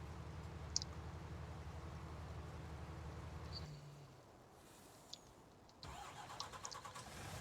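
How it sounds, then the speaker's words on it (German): A tractor engine in Farming Simulator 19 cranks and starts with a steady low rumble, then drops to quieter idling as small clicks sound, before another engine layer comes in near the end. "Den Motor anmachen"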